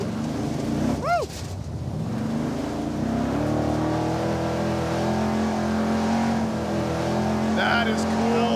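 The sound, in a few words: Dodge Charger revving and drifting in a circle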